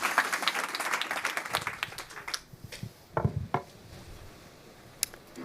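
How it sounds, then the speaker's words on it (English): An audience at a forum gathering applauds, with dense clapping that is loud at first, then thins to scattered claps and a few sharp knocks as it dies away. "If you could all give a round of applause for Sheila."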